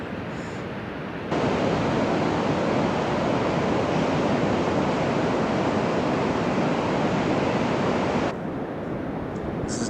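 Waves roll onto a beach on the Olympic Coast as a loud, steady wash of surf noise, swelling sharply after a softer start and easing off again near the end.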